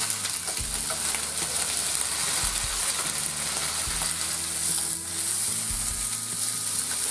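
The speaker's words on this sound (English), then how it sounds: "Then we're going to sear the rooster on each side." Rooster pieces searing in butter in a frying pan over medium heat for coq au vin, a steady close sizzle and crackle with a few soft clunks from turning the pieces.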